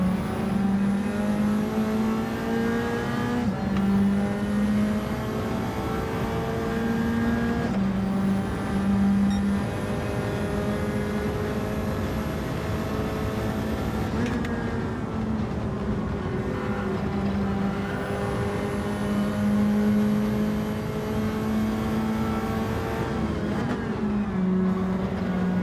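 Race cars in the Gran Turismo 7 video game accelerate and shift through gears during an online lobby race, their engines rising and dropping again and again in a continuous, fairly loud roar with no voices.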